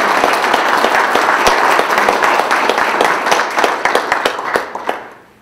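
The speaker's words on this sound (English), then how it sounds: "probably not too late to give them one more round of applause" A large lecture audience at a university applauds steadily with dense clapping that fades out toward the end.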